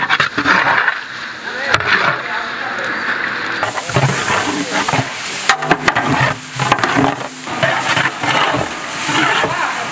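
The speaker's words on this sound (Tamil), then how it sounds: "ஆயில் ஹீட் ஆனதுக்கப்புறம் ஆனியன் கட் பண்ணி வச்சுருக்கிற ஆனியனை நம்ம போடுறோம்" Onions fry in hot oil with ghee and spices for mutton biryani, crackling and sizzling under clattering stirring that rises and falls in loudness.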